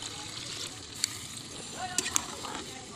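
Water is poured into a pot of meat cooking over a fire, a soft sloshing splash heard faintly with occasional small pops, while a person talks over it.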